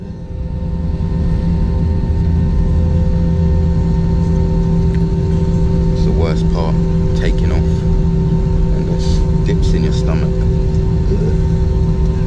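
A British Airways jet passes overhead, its broad steady roar filling the scene at an even, loud level throughout, with faint birdsong and other small sounds scattered over it.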